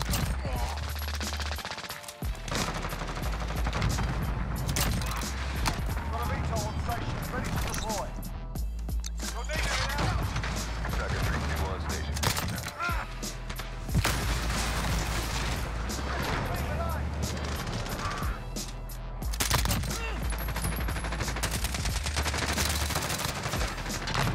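Uzi submachine gun loaded with stopping power rounds fires repeated rapid bursts in a first-person shooter match, loud and near. Booms and other gunfire are mixed in, and player voices talk over much of it.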